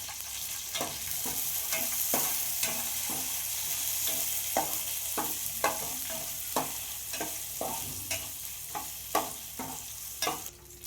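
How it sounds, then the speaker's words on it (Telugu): Green chillies and curry leaves frying in hot oil, a soft steady sizzle punctuated by regular spoon scrapes and taps against the pan, with no voices. "నెక్స్ట్ పచ్చిమిర్చి, కరివేపాకు వేసుకొని వేయించుకోవాలి."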